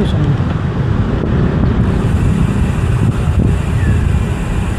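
Wind rushing steadily past a microphone on a bike ride through Arcovia City, Manila, a broad continuous low roar with no breaks, traffic-like rumble mixed in.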